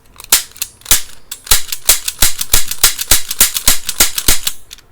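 Rapid gunfire cracks sharply in a dense, uneven volley of about twenty close, loud shots over five seconds, with no talking between them.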